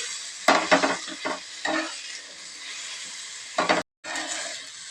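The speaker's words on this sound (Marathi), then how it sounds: "मी आता मसाला भाजून घेते" Spice masala dry-roasting in a pan: intermittent scraping stir strokes and soft sizzle come in short bursts with quiet gaps between them, close up and alone.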